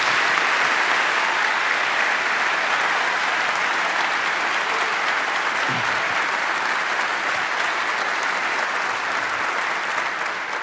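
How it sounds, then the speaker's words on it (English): A large audience at a Harvard event gives sustained, dense applause, a steady wash of clapping that stays loud throughout and fades only slightly at the end. "Let's give them a round of applause."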